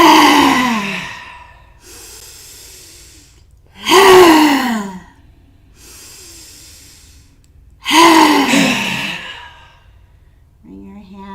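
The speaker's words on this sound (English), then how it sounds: "Inhale in, ha out 3 times, and then pause" Deep breathing exercise during a yoga class for stress: three forceful, loud inhales alternate with softer, drawn-out exhales in a slow, even rhythm, close to the microphone with no talking.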